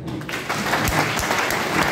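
Steady audience applause fills an anniversary celebration event for Perfect Finance, a dense continuous clapping from a large crowd without any talking.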